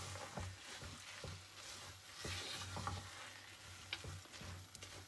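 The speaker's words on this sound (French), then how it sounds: "Je remue pour pas que ça accroche." A chestnut tart mixture is stirred in a pan over low heat, giving soft repeated scrapes about once a second along with a faint, steady sizzle, close and with no voices.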